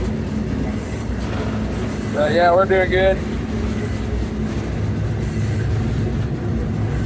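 A freight train rolls through the Sonoran desert with a rider aboard, a constant low rumble and rattle filling the clip while someone speaks briefly over the noise.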